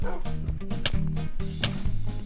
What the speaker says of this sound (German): Hat der mich gerade erschreckt, der blöde Köter